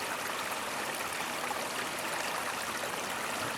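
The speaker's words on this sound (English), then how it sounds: "But that is a very nice creek." A creek in a nature park flows with a steady, broadband rushing wash of water, even and unbroken, heard up close and alone with no voices.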